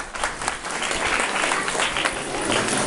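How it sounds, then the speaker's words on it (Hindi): A school audience at an Independence Day gathering claps steadily for a few seconds to welcome a speaker, a dense even wash of applause heard at moderate distance. "जोरदार तालियों से आपका स्वागत करावें।"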